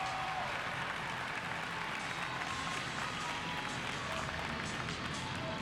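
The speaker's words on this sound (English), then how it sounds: "A nice applause for Eaker" Crowd applause at a gymnastics meet arena, a dense, continuous roar of clapping and cheering heard from a distance, fairly faint and even throughout.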